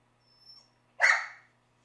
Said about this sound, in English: I'm sure the people watching from home do not appreciate the barking dog